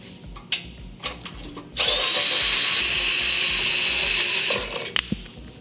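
A power tool loosens the muffler band clamp bolts on a Porsche 992 Carrera or Turbo, a loud, close whine running for about three seconds, preceded and followed by lighter clicks and clanks of tools.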